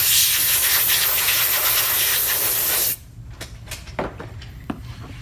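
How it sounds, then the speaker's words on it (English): Compressed air hissing loudly and steadily from an air nozzle as a dental stone model is blown dry for about three seconds, then cut off, leaving faint clicks and handling knocks. "So I'm just going to air dry this one with the air nozzle."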